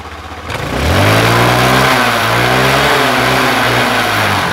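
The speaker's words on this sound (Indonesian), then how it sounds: "Kita genjot motornya seperti yang tadi." A carbureted Honda Vario/Beat scooter engine revs up from a low idle to a steady, loud, sustained high drone, recorded up close.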